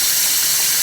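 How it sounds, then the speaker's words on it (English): Water gurgling inside the belt box of a Can-Am Renegade ATV being checked for leaks, a brief, close, steady hissing wash of bubbling liquid with no talking. "It's gurgling."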